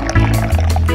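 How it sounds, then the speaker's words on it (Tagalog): Pineapple juice splashes and gurgles as it is poured into a pitcher already holding lemon iced tea and water. The pour is close and loud, lasting about a second with a rising filling tone. "At buhusan natin ang pineapple juice."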